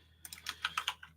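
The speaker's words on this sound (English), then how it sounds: "Why am I typing Scryfall?" Rapid typing on a computer keyboard: a short, close burst of about eight crisp keystroke clicks in an uneven rhythm, with no voices.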